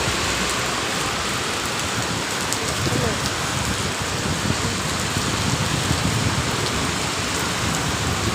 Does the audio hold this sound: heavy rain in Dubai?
yes